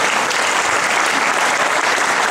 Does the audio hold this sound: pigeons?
no